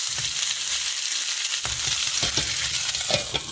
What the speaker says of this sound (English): we're just going to take all our tomatoes with the skin on, and we're going to put them in without burning ourselves